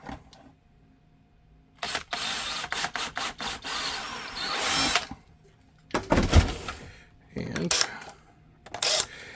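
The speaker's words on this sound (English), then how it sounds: "So we'll drill that hole and then make it like that." A power drill boring a hole in a machined mold, with several bursts of close, loud whirring separated by pauses, and a person speaking between them.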